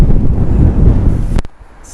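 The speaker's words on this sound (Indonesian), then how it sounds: "Sangat berangin sekali guys." Strong gusts buffet the microphone outdoors in the seaside town of Llandudno, a loud, continuous low roar that cuts off abruptly near the end, leaving quieter background.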